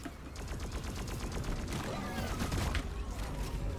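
Rapid gunfire from the Shredder drone in Deep Rock Galactic, a dense run of sharp shots spread through a busy game mix with other noise throughout.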